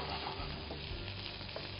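Boiled mutton sautés in oil with ginger garlic paste, giving a steady, dense sizzle with faint stirring scrapes, close and unbroken.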